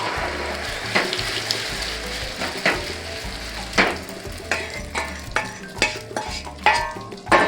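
Batter crackles and sizzles in a hot pan, a steady close frying hiss broken by periodic soft knocks and stirring scrapes, with no voices.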